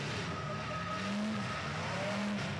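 Race cars on the Evergreen Speedway figure 8 track roar steadily with rising and falling engine tones and some tire noise, the sound dense and close with no one talking.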